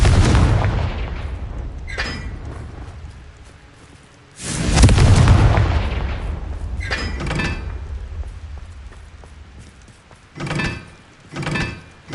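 A Confringo explosive spell blast in Hogwarts Legacy, a loud close boom with a rumbling tail, surrounded by several other heavier thuds and impacts within a game scene.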